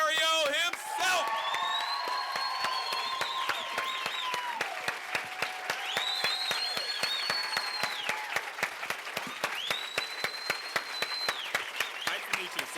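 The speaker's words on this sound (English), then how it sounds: "let's give a nice round of applause" A convention audience marking the 20th anniversary of Quantum Leap applauds Don Bellisario, steady clapping and scattered cheers under swelling theme music, with sharp individual claps standing out near the end.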